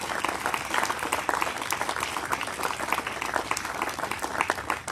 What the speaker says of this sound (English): Can you please give a round of applause for Debbie and Kathy, please?